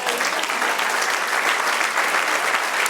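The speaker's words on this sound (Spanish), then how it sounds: "Dale un aplauso al Señor." A church congregation applauding during a Spanish-language sermon, dense continuous clapping that stays loud and even from start to finish with no talk over it.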